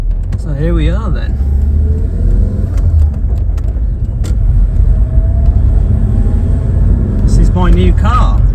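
A 1993 K-registered Vauxhall Cavalier with 144,000 miles rumbles steadily and close from the inside, a low continuous road and engine drone, while someone speaks briefly near the start and again near the end.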